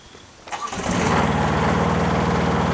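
A Palazzani TZX 550 tracked spider lift's engine cranks over and fires after a brief quiet moment, then settles into a steady, loud, close-up running drone with no talking.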